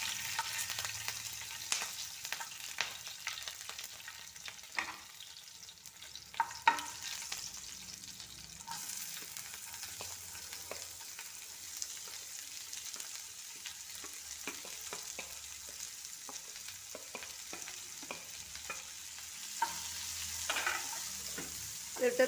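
Onion and green chili frying in oil with cumin for a potato fry curry, a soft, steady sizzle with occasional scrapes and stirring clicks from a spoon in the pan, close and quiet, no talk.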